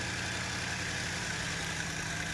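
A BMW M4 sits idling, its engine giving a steady, even hum with no revving, quiet and unbroken throughout.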